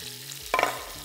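Sliced mushrooms fry in butter in a pan, a short soft sizzle with a brief stirring scrape near the middle, heard up close and alone.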